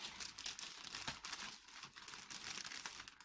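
Soft, continuous crinkling of a thin plastic Ziploc bag holding steak being handled close by, rustling in quick irregular bursts with no talking.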